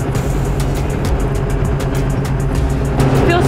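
A skoolie school-bus conversion cruises down a Texas road, its engine droning steadily with low rumble and broadband road noise throughout, fairly loud and continuous with no talking.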